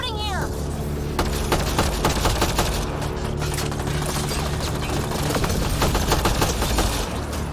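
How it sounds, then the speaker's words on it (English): Rapid, dense gunfire rattles continuously in Mass Effect: Andromeda, loud and sustained over a low mechanical drone, with voices speaking at times. "Still shooting here!"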